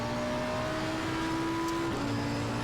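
A Lamborghini race car engine in the racing video game Assetto Corsa Competizione hums with a steady, tonal drone at moderate volume, and the pitch steps to a new level near the end.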